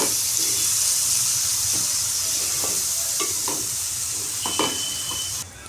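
Coconut paste and green chillies being stirred into a rohu fish curry in a hot pan: a steady sizzle and hiss with soft scraping strokes of a spoon, close and continuous, with no voices.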